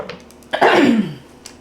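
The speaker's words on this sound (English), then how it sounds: "I have no idea what is going on with this cough." A single harsh cough, close and fairly loud, with a brief rasping tail, preceded by a quiet throat sound.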